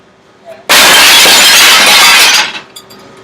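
Glass shattering in one loud, close burst that sprays bright crashing fragments for nearly two seconds before cutting off into quiet, with no voices present.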